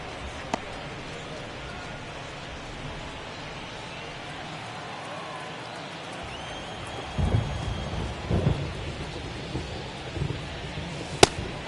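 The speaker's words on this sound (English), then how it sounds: "This rain is not letting up." Heavy rain pours steadily over a baseball game, a dense wash of hiss throughout, with a few low rumbles of thunder and sharp knocks toward the end.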